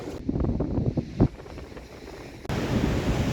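Surf and wind at Kings Beach in Caloundra roll as a loud, continuous wash with gusty rumble against the microphone, a short bump in the middle and no speech.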